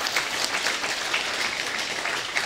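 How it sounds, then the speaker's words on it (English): Steady applause from a conference audience at a national higher-education conference, dense and continuous clapping at an even level throughout, with no voices. "the college deserves a huge round of applause"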